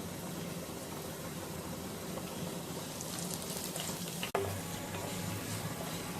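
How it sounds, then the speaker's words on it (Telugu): Mustard seeds, cumin and dried red chili pieces fry in hot oil for a drumstick leaves and coconut curry, giving a steady, close sizzle throughout with a brief clunk near the end. "ఆవాలు, జీలకర్ర, ఎండుమిరపకాయ ముక్కలను వేసుకొని వేయించుకోవాలి"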